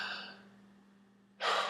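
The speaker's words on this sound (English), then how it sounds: "I'm going to breathe in" A deep breath drawn in through the nose or mouth, close and loud, comes as one sudden rush after a quiet stretch with faint background hum.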